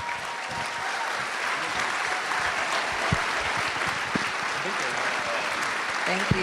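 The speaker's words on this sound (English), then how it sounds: "Let's give them another round of applause." An audience at a panel event applauds steadily and densely, a sustained wash of clapping with a few louder claps standing out near the end.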